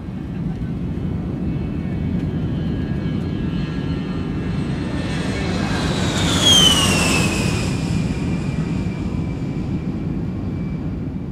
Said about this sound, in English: Speaking of taking off, our 747 is good to go